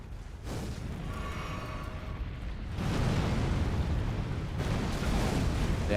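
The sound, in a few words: explosion in video game Elden Ring: Shadow of the Erdtree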